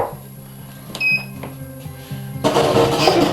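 An electric ice cream maker is switched on: a few short electronic beeps sound first, then the motor starts up into a steady, fairly loud whirring hum that fills the rest of the moment.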